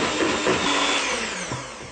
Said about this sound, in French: je vais pouvoir donc fouetter pendant environ 30 secondes